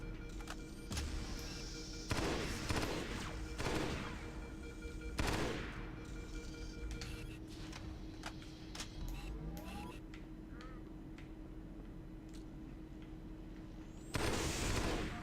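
Grenade explosions and gunfire in the Halo SPV3 mod, loud booming blasts at irregular intervals mixed with bursts of weapon fire and a sustained drone of battle noise.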